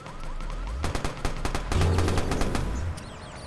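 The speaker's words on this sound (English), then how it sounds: "Getting shot from behind." Gunfire in Watch Dogs: a quick run of sharp, evenly spaced automatic shots sounding close by, then a low rumble and fainter noise as the shooting stops.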